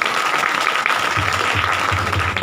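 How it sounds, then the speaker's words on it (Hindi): A congregation at a Hindi church gathering claps for a woman who answered a question, a short burst of brisk, fairly loud applause from a mid-sized group, lasting a couple of seconds. "सिस्टर जी के लिए तालियां"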